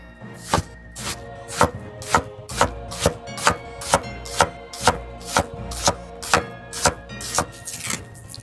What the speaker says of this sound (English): Go ahead and chop up these bigger bits